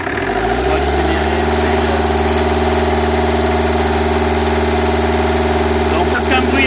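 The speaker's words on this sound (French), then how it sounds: "Là j'accélère, j'attends que le ventilo se déclenche." A car engine freshly fitted with a new head gasket and timing belt runs at raised revs, a loud steady drone with a constant hum and faint mechanical ticking throughout, close by.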